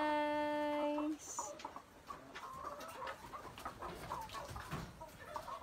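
Chickens cluck and murmur at a poultry farm, a busy near-field chorus of soft clucks continuing over the whole stretch, with a steady tone at the start and no clear talk.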